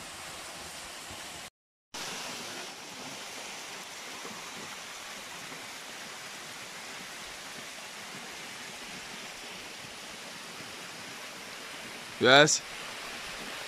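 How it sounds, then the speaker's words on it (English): Mountain waterfall cascade in a jungle forest reserve on St. Vincent, heard as a steady hiss of rushing water close by, with a momentary dropout and a short spoken word near the start. "One of the most beautiful cascades in the mountain."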